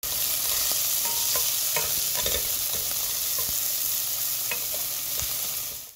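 Ground beef sizzles steadily in a hot pan, with scattered scraping stirs and light clinks over a constant hissing fry.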